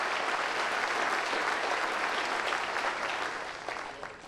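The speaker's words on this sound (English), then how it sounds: "give my friends a big round of applause for helping out there, would you?" Audience at a comedy-magic show gives a loud, dense round of applause for volunteer helpers, sustained and then tapering slightly at the end.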